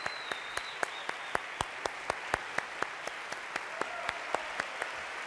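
An audience applauds a speaker after the Nancy Hanks lecture, with a steady, sparse clapping where single sharp claps repeat at an even pace over faint room noise.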